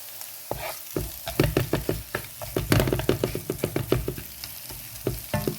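Tomatoes sauté in oil for tomato rice, their steady close sizzle broken by a quick, uneven run of spatula scrapes and clacks against the pan, with no one talking.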